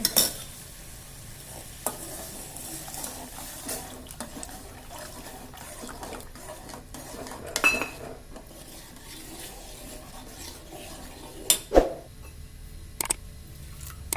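A spoon stirs a thick ragi flour mixture in a pot with soft scraping and gentle bubbling, punctuated by occasional louder knocks against the rim.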